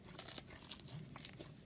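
Crunchy cloud slime is squeezed and crushed up close in a quiet room, giving soft crackling crunches in small irregular bursts.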